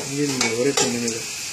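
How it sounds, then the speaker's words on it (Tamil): Garlic fries and is stirred in a pan while cooking fish curry, a brief close scrape and sizzle with two quick stirring strokes. "பூண்டு போட்டு வதக்குறோம்."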